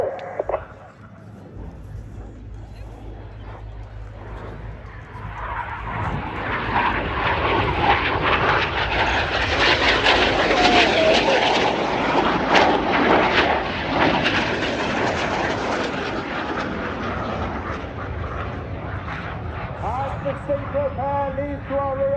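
Royal Air Force Red Arrows jets flying a display, a barrel roll and crossing pass at an air show: a roaring jet engine swell builds from quiet, peaks loud overhead, then trails off with distant rumble.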